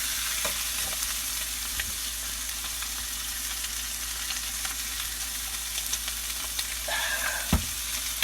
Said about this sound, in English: We're going to cook these sausages